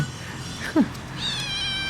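A cat meows close by: one short rising call, then a longer, higher harmonic meow or caterwaul. No one speaks over it.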